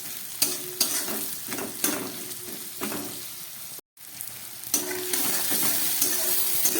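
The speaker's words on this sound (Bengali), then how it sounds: "পেঁয়াজ আর ক্যাপসিকামটাকে আমি ভালো করে ভেজে নিচ্ছি।" Onion and capsicum fry in oil in a wok, with a close crackling sizzle broken by regular scraping stirs, one brief dropout in the middle, then steadier, louder frying; no talking.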